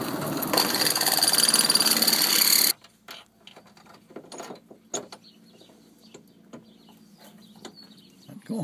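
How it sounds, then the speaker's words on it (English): A power drill whirs loudly and close for a few seconds, then stops abruptly, leaving faint clicks and small handling noises. "Then we'll drill the bottom hole"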